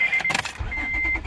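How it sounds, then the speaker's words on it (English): A car with a low battery cranks briefly from the driver's seat and its engine catches and settles into a low idle, with a short jingle of keys and a steady tone at the start. "car starts right up"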